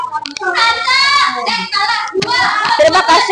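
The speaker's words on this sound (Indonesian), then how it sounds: "Kita beri tepuk tangan semuanya." A school class applauds after a group presentation, with scattered clapping mixed with children's voices and excited chatter throughout.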